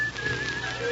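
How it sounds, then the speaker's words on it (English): A faint, thin whistled tone drifts in from outside in an old-time radio drama, one wavering sustained note with no speech over it. "I thought I heard someone. Someone whistling."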